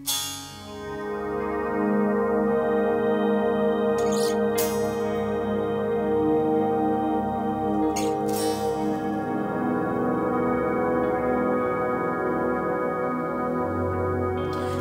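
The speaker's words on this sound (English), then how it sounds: "create kind of a synth pad sound like this" A soft, sustained electric guitar pad swells in via the volume knob and holds as a smooth, synth-like wash of layered tones, with a couple of brief noisy bursts partway through.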